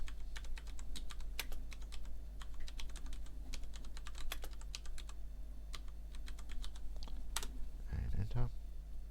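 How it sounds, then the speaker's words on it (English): Computer keyboard keys tapped in quick irregular bursts while search keywords are entered into a library catalogue, crisp and close, with a steady low hum underneath and a brief rustle near the end. "You click on the search box up here and you enter some keywords."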